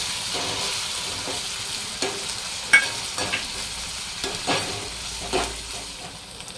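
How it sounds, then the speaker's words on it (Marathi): Chopped tomato sautés in a pan for a prawn masala, a steady soft sizzle broken by irregular scraping stirs of a spoon against the pan, close and with no talk. "हे सुद्धा चांगला नरम होईपर्यंत परतून घ्यायचं आहे हलवायचं आहे"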